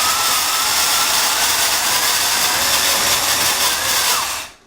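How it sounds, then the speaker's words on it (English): A homemade series DC motor, rewired from a Skilsaw and fitted to an antique AMF Shelby bicycle converted to an e-bike, whines loudly and steadily at high speed, then cuts off abruptly at the end. "a series DC motor will just keep accelerating"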